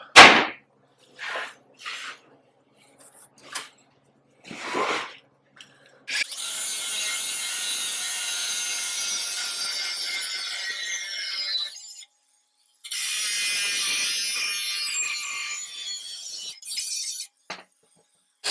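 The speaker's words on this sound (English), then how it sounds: "I'm going to take the grinding disc and trim all this excess off" An angle grinder fitted with a grinding disc trims excess metal on a fabricated torsion bar cross member for a 1956 International Little Jewel, sounding as two long, harsh, hissing grinding passes separated by short scrapes and knocks.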